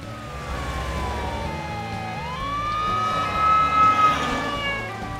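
A fire engine siren wails with a long rising then steady tone over a busy, rumbling background, growing louder toward the end.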